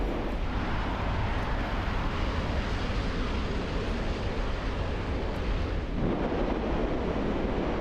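A jet engine runs on full afterburner during a hard turn in War Thunder, a loud, steady, broadband roar that holds without a break.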